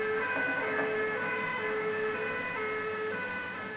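Fire station alarm sounding for a reported car fire, a continuous, steady electronic tone ringing through the station at moderate volume without a break.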